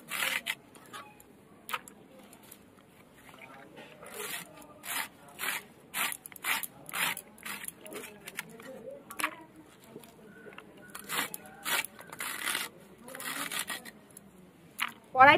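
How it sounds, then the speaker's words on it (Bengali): Radish greens being finely chopped with a knife on a board, a quick run of light, crisp cutting taps in irregular bursts, close and fairly quiet, with no speech. "মূলো শাকগুলো কেটে নেবো, একদম ঝিরি ঝিরি করে কুচবো।"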